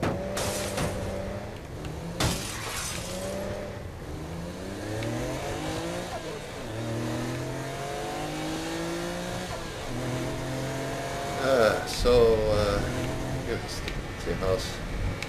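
A car in the video game Saints Row The Third drives along with its engine repeatedly revving up in rising sweeps, gear after gear, at a moderate steady level with a louder surge near the end.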